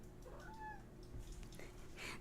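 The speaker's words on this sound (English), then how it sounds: "The cats are singing." Cats meow indoors, a few short rising and falling calls that are faint against a steady low background hum.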